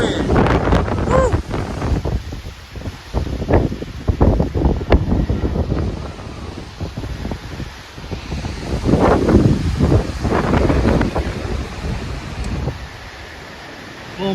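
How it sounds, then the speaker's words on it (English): Strong wind gusts of about 70 mph roar and buffet the microphone in Pullman, WA, swelling in loud surges with rustling debris, while a voice exclaims over the noise. "That is some strong wind."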